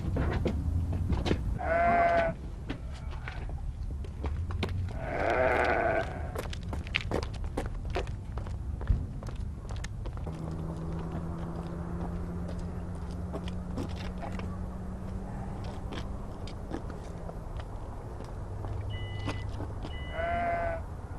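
Sheep bleat in a rural farmyard, several distinct calls at intervals, with footsteps and shuffling between them and a low steady hum underneath.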